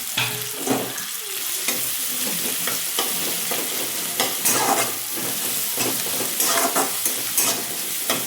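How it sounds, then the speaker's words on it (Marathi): Chopped onions sizzle and fry in a pan, with a spatula stirring and scraping in a steady, close rhythm of clinks and hisses over continuous crackling. "आपण परतून घेऊयात कांदा"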